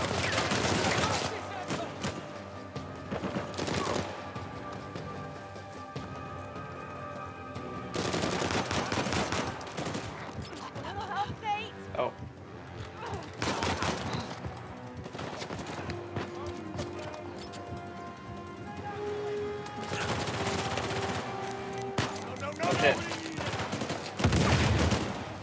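Sniper shots in Uncharted 4 come as sharp, loud reports spaced several seconds apart amid game music and action noise, with a voice talking over parts of it.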